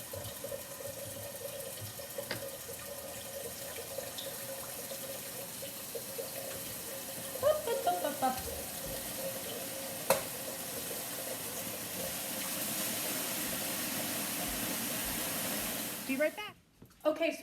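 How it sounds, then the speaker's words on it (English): Tap water running into a pot of potatoes, a steady hiss and splash that thickens near the end before cutting off, with a few knocks and clatters along the way. "I'll put some ice cold water in here"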